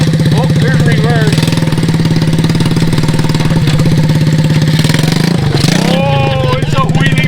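A small engine on a homemade rat rod wagon go-kart runs loud and close with a throbbing, uneven idle that rises and falls as it is revved, while voices talk over it.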